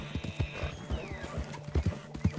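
Hooves of a horse in Red Dead Redemption 2 thud in an uneven clip-clop rhythm, close and fairly loud, with a faint whinny over outdoor game ambience.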